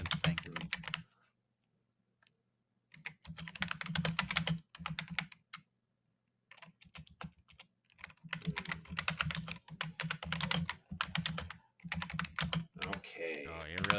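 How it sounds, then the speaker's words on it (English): Someone is typing on a computer keyboard in short bursts of quick clicking key taps between pauses. People talk over and between the bursts. "Oh, you're really typing there."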